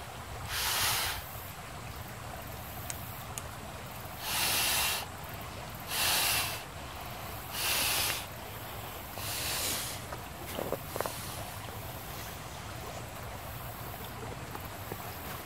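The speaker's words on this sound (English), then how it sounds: "So let's see how quickly I can blow this up." Five separate puffs of breath blown into the valve of an inflatable Modase travel pillow made of microfiber-type material, each a short breathy burst with brief pauses between them, close and fairly quiet.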